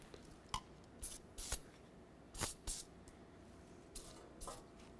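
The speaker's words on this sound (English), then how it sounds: "first I'm going to throw some rust penetrant on them so they come off a little bit easier" Rust penetrant sprayed onto the front lower ball joint nuts and bolt of a 2005-2016 Toyota RAV4, heard as several short, sharp hissing bursts spaced unevenly apart against quiet background, with no talking.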